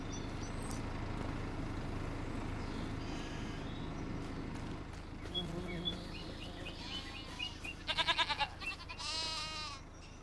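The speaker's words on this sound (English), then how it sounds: "I think that's a little baby goat, isn't it?" A baby goat on a farm in Farming Simulator 25 gives several short bleats in a cluster, fairly close over a soft ambient background with faint bird calls.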